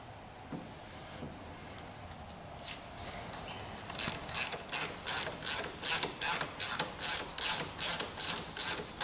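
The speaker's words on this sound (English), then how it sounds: "You just go ahead and start your triple square bolts" A ratchet drives triple square bolts into the sheet-metal door of a 2004–2010 Volkswagen Jetta during a door lock actuator replacement. A few scattered clicks come first, then a steady run of rapid, rhythmic ratcheting bursts, close and alone.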